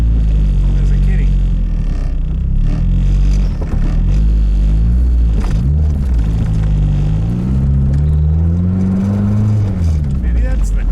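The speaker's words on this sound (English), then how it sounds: "Maybe that's the clutch chirping." Turbocharged K24 engine in a Nissan Cefiro build, a loud, close-up rumbling drone that rises and falls in pitch as revs change, with people talking over it.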